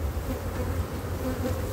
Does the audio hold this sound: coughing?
no